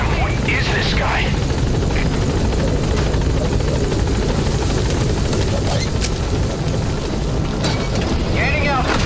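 Helicopter rotor and turbine roar from the Pequod transport helicopter approaching a landing zone in Metal Gear Solid V, loud and continuous throughout with a steady thrumming low end, brief higher chirps over it.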